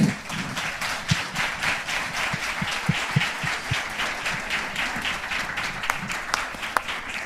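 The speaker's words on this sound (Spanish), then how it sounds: "Agradecemos a Roberto Balaguer con un lindo aplauso." Audience applause after a talk on emotional aspects of inclusion in education, steady clapping from a room full of people with a few sharp individual claps standing out, moderately close throughout.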